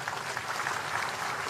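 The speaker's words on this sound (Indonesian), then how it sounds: "Tepuk tangan semuanya." An audience at a military ceremony gives brief, steady applause, a dense even patter of many hands clapping for just over a second.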